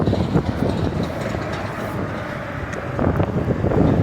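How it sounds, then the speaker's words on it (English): Steady wind buffeting a microphone outdoors, a constant loud rumbling roar that swells slightly toward the end with no other sounds standing out. "Y'all hear all this wind?"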